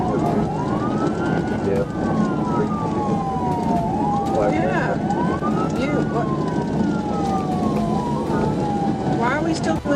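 A police siren wails continuously, rising and falling in long sweeps, while people talk over it inside a moving vehicle with steady road noise.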